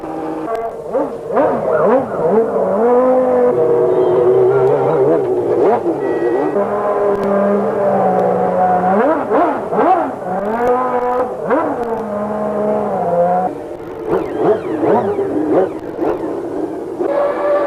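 Formula One cars from 1991 run on the track at Phoenix during the morning warm-up, their high engines wailing continuously and sweeping up and down in pitch as cars pass and shift, loud and without talk for nearly eighteen seconds.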